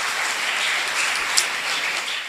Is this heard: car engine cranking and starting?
no